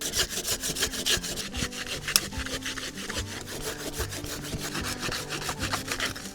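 A Silky pruning saw cuts through wood in rapid, rhythmic rasping strokes, close and fairly loud, each pull and push clearly separated, with no talk.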